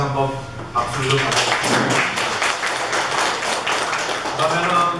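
A room of Seoul National University alumni clapping at their Georgia chapter's annual general meeting, a lively, close burst of hand claps that follows a voice and continues, with speech surfacing again near the close.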